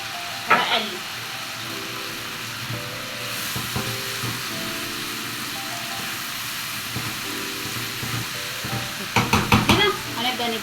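Onion with dried coriander frying in a pan, a steady close sizzle with stirring scrapes and clatters, louder bursts of stirring near the start and end, and speech over it.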